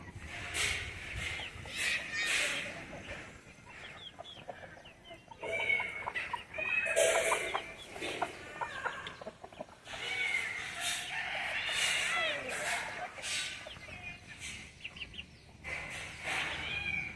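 Chickens cluck and a rooster crows repeatedly at a breeder egg farm, with several loud bursts of crowing and busy clucking spread throughout, no talk.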